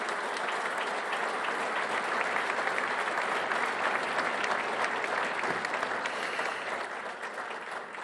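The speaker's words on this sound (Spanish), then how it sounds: "quiero pedir un fuerte aplauso" A large dinner audience at a year-end foundation gala in Argentina bursts into loud, sustained applause after a speech by President Javier Milei. The dense, even clapping continues unbroken and close throughout.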